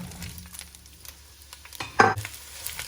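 Chopped onions hit heated oil for a venison sausage cabbage soup, giving a soft close sizzle with scattered crackles and a brief louder burst of spitting partway through.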